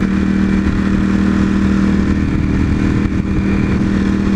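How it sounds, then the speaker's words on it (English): A motorcycle engine runs loud and close with a deep, throaty steady drone, a brief dip near the end, and no clear crackle standing out. "the back throat sound, that deep throaty crack, snap, crackle, and pop, because it just makes it more fun to ride"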